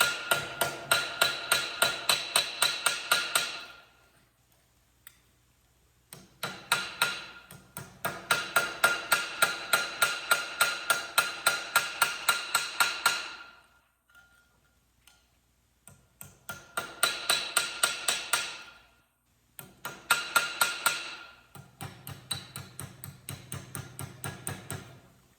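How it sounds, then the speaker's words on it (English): Hand hammering on sheet metal while shaping a star-shaped napkin holder: rapid, evenly spaced ringing blows in bursts of several seconds, separated by short pauses, close and alone. "you gotta just keep hammering on it until you get it where you like it."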